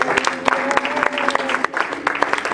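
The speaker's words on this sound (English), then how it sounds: "Can you clap your hands?" An audience claps hands in a steady, dense burst of applause at a church service, loud and close, with sharp individual claps standing out from the crowd.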